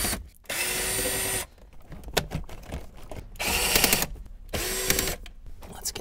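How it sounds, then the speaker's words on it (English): A power screwdriver or drill backs screws out of Mazda Miata interior panels in three loud whirring runs of about a second each, with rustling and clicking handling noises between them. "Got two more screws, one on either side like this,"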